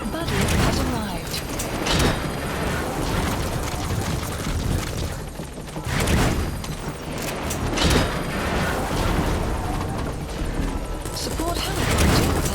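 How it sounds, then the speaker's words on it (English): A support helicopter arrives in the Metal Gear Solid 5: The Phantom Pain video game, its loud rotor thrum and engine roar mixed with booming gunfire and crashes throughout, with game voices speaking over it. "Support helicopter has arrived."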